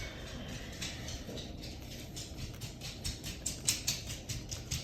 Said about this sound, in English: that's my little dog. His nails need to be trimmed.